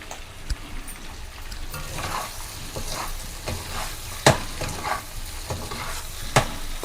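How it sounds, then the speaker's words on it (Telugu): Mutton fry is stirred continuously in a hot pan with a flat spatula, giving a constant sizzle broken by sharp scraping knocks of metal on metal, close and fairly loud, with no talking. "ఇలా కలుపుకుంటూ మంచి అట్ల కాడ పట్టుకోండి ఇంకా దాన్ని అలా కలుపుకుంటూనే ఉండాలి"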